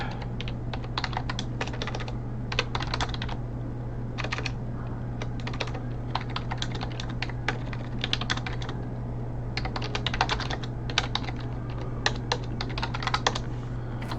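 Rapid, continuous clatter of keys on a computer keyboard, close and steady across the whole stretch in irregular bursts over a constant low background hum.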